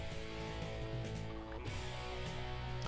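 Chickens cluck on a chicken farm in a video game, faint, overlapping poultry calls against a steady background with no speech.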